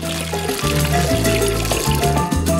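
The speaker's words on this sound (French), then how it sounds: "remplis un sac plastique avec de l'eau" Water runs from a tap into a plastic bag, a loud, steady pour whose pitch shifts upward as the bag fills, heard close with no talking.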